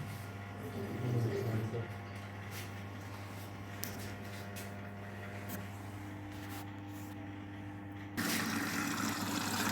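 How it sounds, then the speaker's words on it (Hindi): A front-load washing machine, 8.5 kg, draws water in a steady hissing flow with a low motor hum, rising louder near the end as someone talks over it. "ये देखिए पानी लेना शुरू कर दिया इसने"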